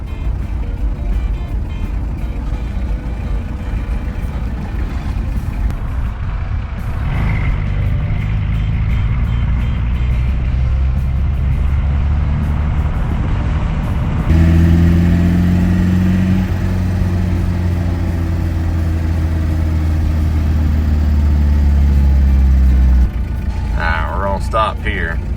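A 1982 Chevy LUV diesel truck, abandoned and sitting over 15 years, drives and accelerates on wobbly tires, its engine drone steady and then rising into stronger, higher revving around the midpoint, heard close and fairly loud with no talk.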